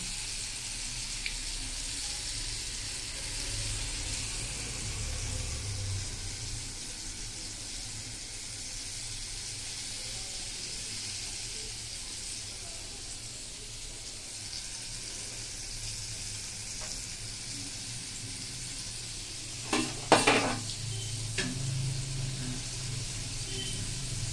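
Palm fruit fritters (taler bora) frying in hot oil, a steady soft sizzle running throughout, with a brief louder burst of clatter near the end.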